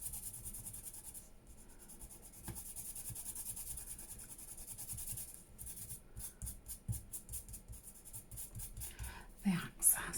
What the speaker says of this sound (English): let me just rub it